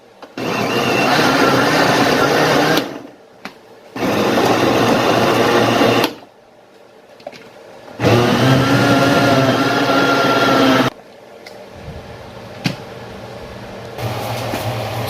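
A kitchen blender whirs loudly as it purées soup ingredients, running in three long bursts separated by short pauses, with quieter handling noises between runs.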